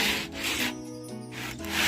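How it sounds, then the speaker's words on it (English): Sandpaper rubbing back and forth over a wooden slot car track baseboard, a close, loud scratchy sanding sound in repeated strokes with a quieter pause in the middle. "after running over it with the sandpaper, you're left with a much smoother surface"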